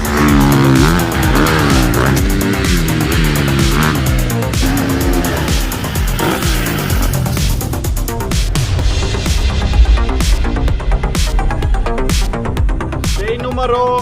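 A motorbike is ridden hard for jumps, its engine loud and close, revving and rising in pitch and then dropping into a rapid throbbing idle-like pulse, with talk partly under it.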